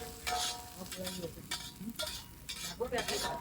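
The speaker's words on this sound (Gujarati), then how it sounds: "ડુંગળી નાખી છે હવે કોબીજ ને ધીરે ધીરે હલાવીશું જ્યાં સુધી કતરાઈ ના જાય ત્યાં સુધી આપણે એને શેકાવા દઈશું" Onion and cabbage stir-fry in a pan at a street food stall, with a soft sizzle under repeated scraping and stirring strokes, close by.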